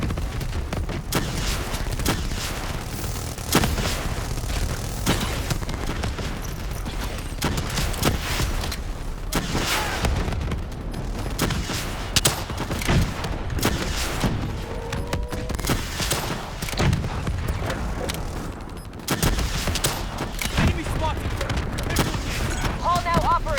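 Sustained gunfire and booming blasts fill a firefight in Call of Duty Black Ops 3, dense and continuous for over twenty seconds with bursts of automatic fire.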